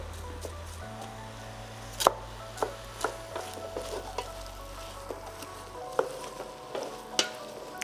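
Cabbage stirred in a pan with onions, turmeric and oil for a vegan tikil gomen, a steady sizzle of frying under repeated wooden scrapes and knocks of stirring.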